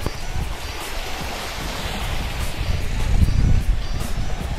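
At the end of a cycling route on a Baltic coast spit with sea on all sides, surf washes in steady rolling surges under gusty wind buffeting the microphone, swelling louder toward the end, no talking.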